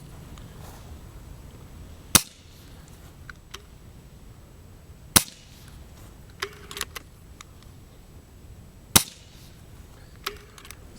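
Three sharp, loud shots from a Diana Model 34 .22 air rifle firing RWS Hobby pellets, spaced a few seconds apart, each a single crisp crack with fainter ticks and clicks between.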